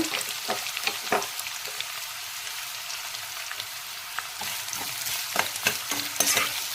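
Chopped onions frying in a pan, an even sizzle punctuated by repeated spatula stirring and scraping, close up and with no one talking.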